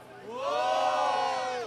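Crowd at a Brazilian freestyle rap battle roars with cheers, whoops and shouts, swelling to a loud sustained peak and holding to the end.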